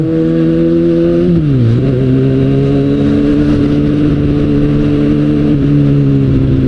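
A Kawasaki Ninja ZX-6R 600 cc inline-four motorcycle engine drones steadily while riding, its pitch dipping briefly as it shifts gear and then holding a constant, loud hum with wind noise beneath.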